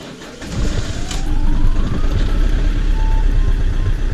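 An Auto Trail Cheyenne motorhome engine cranks and catches, settling into a loud steady idle rumble close by after a brief quieter start.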